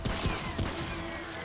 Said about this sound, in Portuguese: Tô tomando tiro de tudo que é lado.